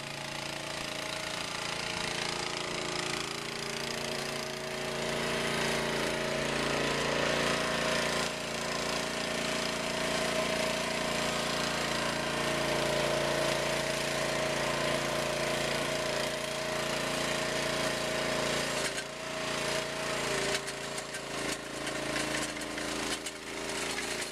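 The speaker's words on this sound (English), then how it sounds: "you can use a trencher to trench your lawn" A trencher cuts a trench through a front-yard lawn, its engine and blades giving a continuous, loud, broadband grinding roar that holds steady for the whole stretch with no talking.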